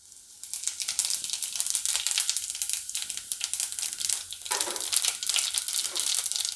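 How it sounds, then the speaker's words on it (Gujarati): Cumin seeds hit hot oil in a pan for a Gujarati tomato curry, setting off a loud, steady crackling sizzle that carries on the whole time with no one talking. "તો પહેલાં આપણે એમાં જીરું નાખી દેવું."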